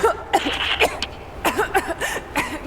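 A woman coughs and clears her throat in Rise of the Tomb Raider, a series of sharp, close bursts spread across the clip.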